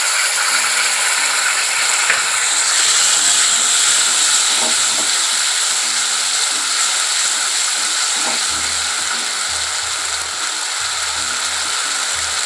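Mustard paste poured into a hot pan of oil for a chapila fish mustard curry, giving a loud, steady sizzling hiss that lasts throughout, with low background music underneath.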